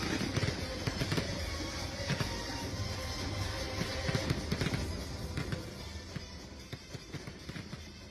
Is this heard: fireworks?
yes